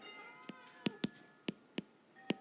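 Cat meowing in the background, about six short, fairly faint meows spaced irregularly, with wind chimes or bells faintly ringing underneath.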